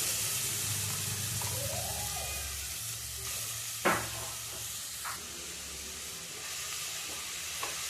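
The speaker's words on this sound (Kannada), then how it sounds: "ತುಪ್ಪ ಬಿಸಿಯಲ್ಲಿ ಇವಾಗ ಕ್ಯಾರೆಟ್ ಹಾಕ್ತಿದ್ದೀನಿ" Grated carrots fry in hot ghee in a pan for carrot halwa with a steady soft sizzle and hiss, broken by a few sharp clinks and scrapes of stirring, without talk.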